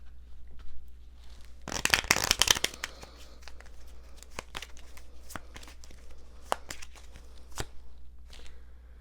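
A deck of cards riffled in a quick burst of fluttering snaps, followed by quieter clicks and handling sounds in a still room.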